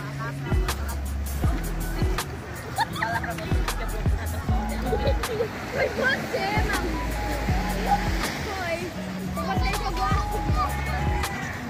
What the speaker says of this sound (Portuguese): Praia de Santo Antônio, aqui em Mangaratiba.